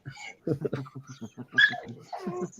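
Dog barking and yipping indoors in short, excited bursts with whimpers, fairly faint and mixed with people talking nearby.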